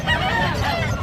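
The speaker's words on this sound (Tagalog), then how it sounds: "laking manok nito oh." A large chicken at a pet market calls once in a drawn-out, honking squawk, fairly close and loud against a noisy outdoor background with no talking.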